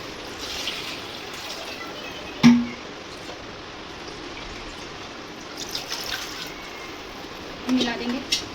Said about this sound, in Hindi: इसमें थोड़ा पानी डालूंगी मैं।